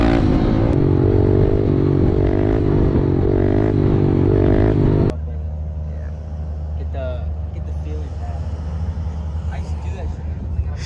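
Kawasaki KLX110L pit bike fitted with an FMF Powercore 4 exhaust, engine droning steadily and loudly while riding, then dropping to a lower rumble partway through.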